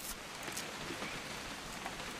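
Steady rain pours in What Remains of Edith Finch, a continuous broadband patter of drops on surfaces with no speech, holding an even level for a couple of seconds.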